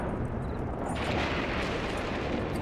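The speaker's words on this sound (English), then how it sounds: "It's the thunder." Thunder in a role-play video game, a sustained broad rumbling roll that swells and stays loud throughout, with no talking.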